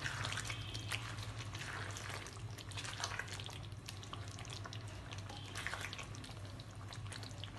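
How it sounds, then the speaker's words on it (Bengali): Achari chicken masala stirred in a pan right after salt goes in, a steady moist sizzle with soft scraping and wet stirring sounds running continuously at a fairly low level. "নুন দেওয়ার পর একটু নাড়িয়ে নেব।"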